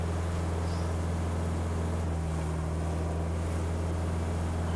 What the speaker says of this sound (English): Why is that revving so much, and yet the wheels aren't spinning?